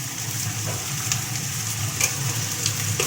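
Food, likely turkey pieces, shallow-frying in a little hot oil gives a dense, continuous sizzle with a crackling spatter, steady and close throughout, no voices.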